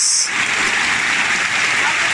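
Steady rain falls outdoors beside a river at a gold-mining site, a dense continuous hiss of drops on surfaces filling the whole clip at close range, with faint voices mixed beneath it.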